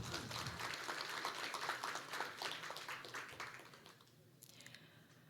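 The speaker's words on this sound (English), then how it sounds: "Let's give a big round of applause, ladies and gentlemen" Applause from the audience at an international partnership forum on strategic cooperation, a dense patter of clapping that fades out over the final second, quiet and distant.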